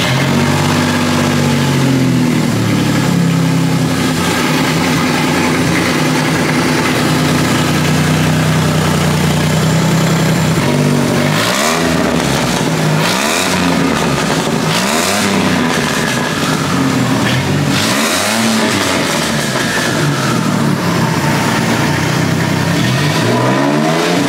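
A cheaply turbocharged Ford F150 engine cranks, catches and settles into a loud, steady idle, then gets blipped through several sharp revs that rise and fall in quick succession, close up with no talking.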